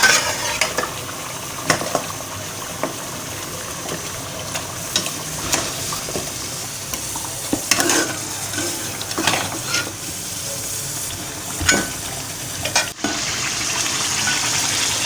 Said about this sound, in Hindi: अब ये मसाला भूनते हुए तकरीबन 10 मिनट हो गए